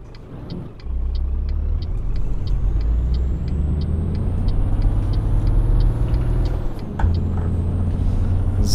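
A truck drives along in the video game Euro Truck Simulator 2 with a steady, loud low engine drone, a faint rhythmic ticking on top and a brief shift in the engine note near the end.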